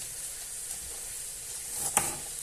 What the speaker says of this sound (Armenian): Լցնում եմ բուսայուղով տապակում եմ